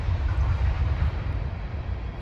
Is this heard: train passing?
yes